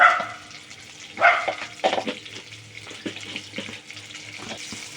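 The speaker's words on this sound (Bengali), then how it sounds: "সামান্য একটু জিরে দিয়ে দিলাম গোটা জিরে একটা তেজপাতা দিয়ে দিলাম" Whole cumin seeds and a bay leaf hit hot oil, giving a close, crackling sizzle with a few sharp bursts early on that settle into a steady spitting hiss. No one speaks.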